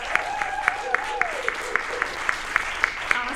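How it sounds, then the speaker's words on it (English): Audience applause at a story slam grand slam event in Lancaster, a steady wash of clapping with regular sharp accents and a faint voice briefly audible under it. "Everybody have another round of applause for Tom."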